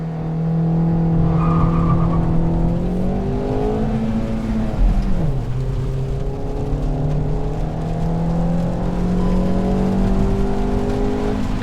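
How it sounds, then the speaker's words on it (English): A car's 1.2 liter Kappa engine revs up to 5000 RPM while stationary with the air conditioning off, a loud steady drone that rises, dips briefly, then climbs and holds high, close to the microphone. "Revving the motor, revs till 5000 RPM."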